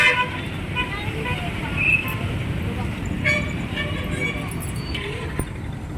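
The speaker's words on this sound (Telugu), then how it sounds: "ట్రైన్ చూడండి ట్రైన్ ఎంత బుడ్డి ట్రైన్ ఎంత చూడముచ్చటగా ఉందో" A small children's ride train in a shopping mall gives a short high toot over a steady bustle of indoor crowd noise, with people talking nearby.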